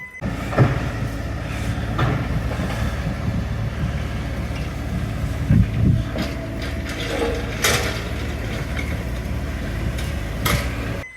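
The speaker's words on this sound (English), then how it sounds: "rented a big jackhammer excavator to break up some" An excavator-mounted jackhammer breaking rock grinds and rattles steadily, with repeated metallic knocks and clanks standing out over a continuous mechanical rumble nearby.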